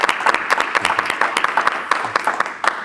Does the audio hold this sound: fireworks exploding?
no